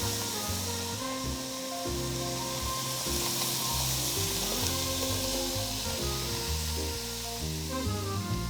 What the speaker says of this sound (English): In a saucepan on the stove at medium heat, saute the onions and the mushrooms and the butter until tender.